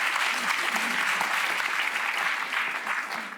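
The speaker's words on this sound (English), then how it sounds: "look at this round of applause" Steady applause from a live podcast audience in Newcastle, a dense, even wash of many hands clapping at once, loud and close, holding strong for several seconds before easing slightly at the end.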